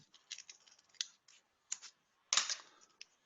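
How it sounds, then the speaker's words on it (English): Scissors snipping a folded Post-it note at close range, a few short crisp cuts and clicks spread over about three seconds with quiet gaps between them, no talking. "Take a scissors, make a semi-hole"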